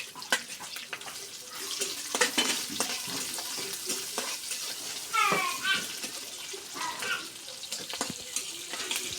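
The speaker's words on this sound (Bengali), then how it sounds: "পেঁয়াজ মরিচগুলো আমাদের ভাজা হয়ে গেছে" Crushed garlic, chopped onion and green chillies frying and being stirred in a pan for a rural monsoon vegetable dish, with a steady close sizzle broken by scraping stirs throughout.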